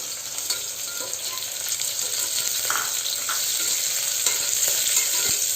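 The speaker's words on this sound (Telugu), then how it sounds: "ఆనియన్స్ కూడా ఒక 5 to 8 మినిట్స్ ఫ్రై అయిపోతాయండి" Onions and soya chunks fry for biryani in a close, steady sizzle, with stirring scrapes and a few light clinks from the pan.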